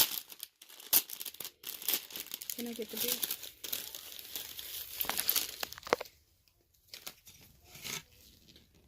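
Pink tissue paper for a Valentine gift basket being handled, with dense crinkling and rustling bursts throughout, close and fairly loud, under and between occasional talk.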